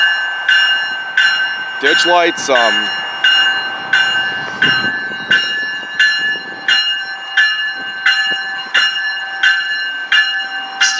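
A locomotive bell clangs in a steady, evenly spaced rhythm as a train rolls past, loud and close throughout, with a brief stretch of talk partway through.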